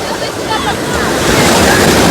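Sea waves break and wash onto the shore at Odesa's Black Sea coast, a loud, close rushing surge that builds over the moment, mixed with wind buffeting the microphone.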